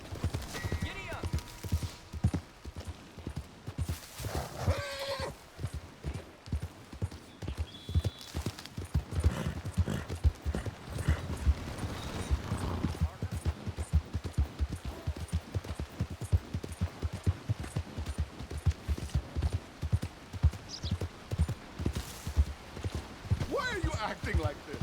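Horse hooves gallop in Red Dead Redemption 2, a fast, continuous clip-clop pounding throughout with occasional whinnies, while characters talk over the riding.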